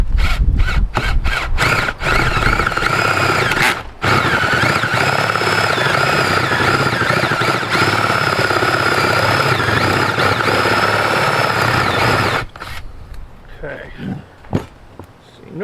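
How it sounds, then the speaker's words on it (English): An electric drill with a spade bit bores a hole in a sluice, whining loud and steady for several seconds after a few short bursts, then stopping abruptly. "I got a slightly less aggressive spade bit, but it also might be slightly duller"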